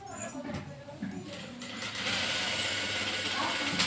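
A sewing machine runs steadily while stitching fabric for a side frill on a palazzo, its motor and needle clatter rising and holding loud after a brief start, with a voice talking over it.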